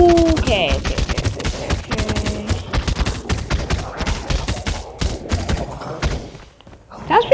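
Rapid pistol gunfire in Call of Duty Mobile zombies mode, dense overlapping shots and thuds in quick bursts, with a player talking over the action.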